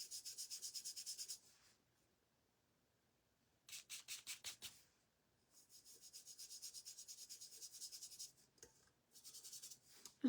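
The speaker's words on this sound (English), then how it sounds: "I'm afraid to rub too hard because I don't want it to rub the paint off." Rhythmic rubbing on a painted tea kettle, quick back-and-forth strokes in several bursts separated by silent pauses, close and soft with no voices.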